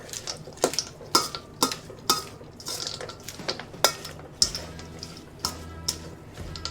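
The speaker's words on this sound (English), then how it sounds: "Give that a stir" A salad with spicy honey mustard dressing is stirred with utensils in a bowl, giving a series of irregular, crisp clinks and scrapes, close and moderately loud, with soft rustling between the strikes.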